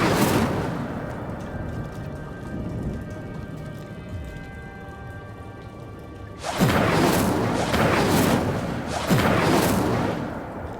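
A fire spell bursts in the Hogwarts Legacy video game, loud crackling flame blasts arriving suddenly and then again, over a steady game ambience with a faint tonal hum.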